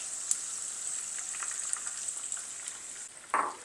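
Chopped garlic frying in a pan for Chinese garlic chicken gives a steady close sizzle, then a sudden louder hiss as the mixed sauce is poured in.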